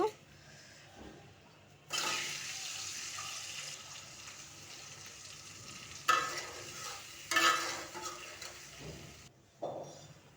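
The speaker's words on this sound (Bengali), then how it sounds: "এখন ডিমগুলোকে ভেজে নেব" Eggs frying in oil in a pan with a little salt, turmeric and chili powder, sizzling bursts that swell and fade with stirring scrapes, moderately close and without talk.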